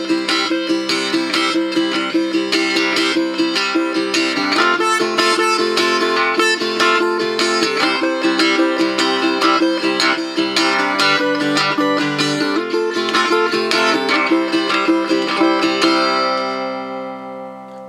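A tenor guitar strums a 12-bar blues with the fan stroke, a continuous bright rhythmic strumming of chords that keeps a steady beat for the whole passage and rings out briefly at the end.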